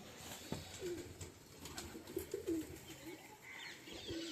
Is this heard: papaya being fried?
no